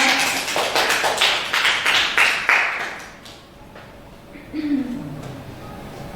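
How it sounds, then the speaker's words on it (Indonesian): Seated audience at a teachers' dissemination session clapping together, a fairly loud rhythmic burst of applause that fades out after a few seconds, followed by a presenter speaking. "tepuk tangan buat kita semuanya"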